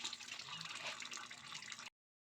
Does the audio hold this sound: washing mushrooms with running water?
yes